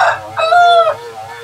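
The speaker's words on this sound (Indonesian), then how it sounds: "sekali lagi abaikan suara ayam ya" A rooster crows loudly and close by, one short call followed by a longer drawn-out cry, heard outdoors at a site where wood is being chopped with a chainsaw.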